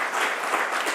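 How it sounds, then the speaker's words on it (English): A conference audience at an energy-industry inauguration bursts into dense, sustained applause, a steady wash of many hands clapping together without pause. "big round of applause for His Excellency"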